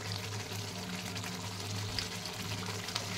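Water poured into a pot of simmering meat and potatoes, a steady close splashing hiss running throughout the short stretch without a break.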